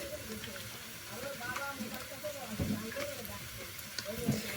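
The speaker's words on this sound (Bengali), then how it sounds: "আর এদিকে শাক ভাজা হচ্ছে" Greens fry in a pan with a soft continuous hiss and sizzle, kept low beneath someone talking in Bengali in a home kitchen.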